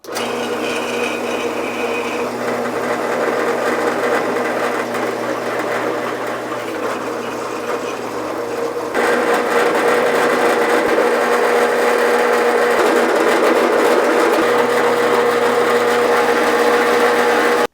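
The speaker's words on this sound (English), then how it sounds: "we'll drill out with a 5/8 inch drill bit, and then we'll ream it to 16 millimeters" A steady, high-pitched machine whine runs throughout, growing louder and denser about halfway through, as a 5/8-inch drill bit cuts holes in metal hood hinges and a 16 mm reamer follows.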